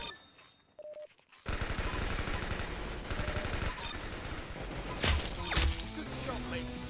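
Rapid automatic gunfire in the Roblox shooter Arsenal, dense continuous bursts with a few louder cracks, loud and close, following a brief quiet moment with a short tone.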